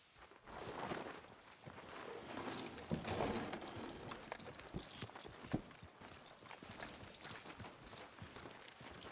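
Horse hooves clip-clop at a steady walking pace in Red Dead Redemption 2, fairly close and moderately loud, mixed with game ambience and other soft shuffling sounds throughout.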